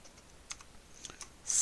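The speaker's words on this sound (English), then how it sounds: "So let's type that out." A few scattered keystrokes tapped on a computer keyboard while entering Python code, quiet and close with uneven spacing, ending in a louder burst of noise.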